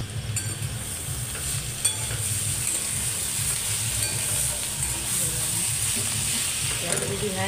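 Boiled potato goes into a hot pan with curry leaves and is stirred, a steady sizzle with scraping stirring sounds running throughout, alone and fairly close.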